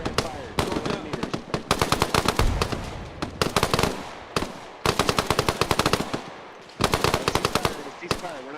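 Rapid bursts of automatic machine gun fire in the ArmA combat game, loud and close, coming in repeated volleys separated by short pauses, with faint radio chatter underneath.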